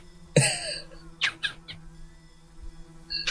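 A person imitates a cat with a few short, squeaky mewing cries, separated by quiet gaps and some breathy throat sounds, close to the microphone.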